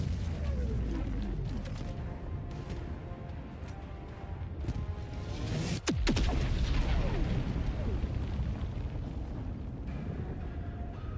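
Heavy booming blasts and rumbling debris from an orbital strike in the Helldivers 2 video game, a loud sharp impact midway amid continuous mechanical crashing and explosions, with little talk.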